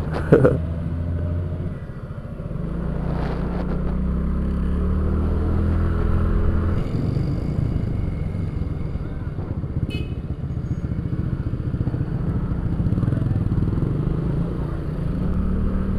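A motorcycle engine idles and rumbles steadily nearby, with a low, continuous throb and faint mechanical clatter throughout.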